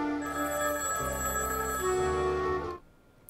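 An old-fashioned telephone bell rings steadily in a Higurashi video game, a bright sustained ring with layered tones that continues for nearly three seconds, then cuts off abruptly into quiet.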